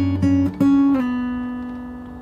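Fingerstyle acoustic guitar plays a few plucked notes and then a chord that rings on and slowly fades, in a brief solo phrase.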